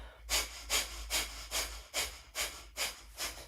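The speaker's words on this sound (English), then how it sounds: "Now we engage in breath of fire." Rapid yogic breath of fire, seven or eight quick forceful exhales through the nose in an even rhythm, close and fairly soft, with no talking.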